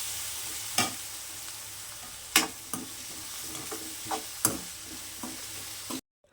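Poha is stirred into its tempering in a pan, with a spoon scraping and clacking against the metal in several sharp, irregular strokes over a soft background sizzle before the sound cuts off abruptly.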